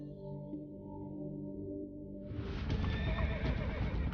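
A horse gives a long, wavering whinny, then a louder, rough burst of neighing breaks in and carries to the end.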